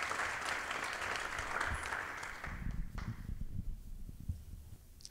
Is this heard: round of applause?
yes